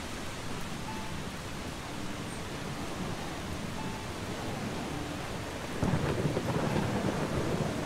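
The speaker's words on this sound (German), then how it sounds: "Es regnet gerade, ne?" Steady rainfall in the video game Eastshade, a dense, even wash of rain noise with low thunder-like rumble, holding constant throughout and swelling slightly louder near the end.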